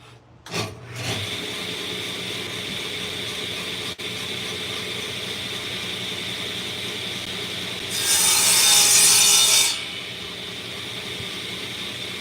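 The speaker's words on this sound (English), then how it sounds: "So I'm going to cut the handle. I'm just going to freehand it." A wooden handle for a homemade carving tool is cut freehand on a machine saw, giving a steady close mechanical hum after a start-up thump and a louder hissing cut near the end, with no voices.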